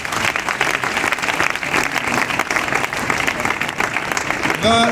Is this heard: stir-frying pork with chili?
no